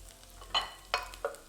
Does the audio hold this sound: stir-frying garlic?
yes